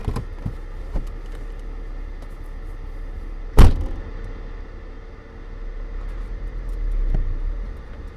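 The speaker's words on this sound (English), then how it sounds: "Can you open these gates for me, sir?" Gates being opened give one sharp, loud clank partway through, over a steady low engine hum and faint background noise.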